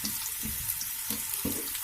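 Chopped onions hit hot oil in a pan while a chicken dum biryani is being made, setting off a loud, close, rushing sizzle broken by a few dull knocks and stirring thumps.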